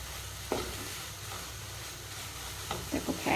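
Grated carrots frying in ghee in a pan for gajar halwa, a soft steady sizzle with a few stirring scrapes near the end, no talking.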